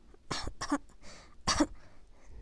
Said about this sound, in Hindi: ये खांसी की आवाज़ सुनते ही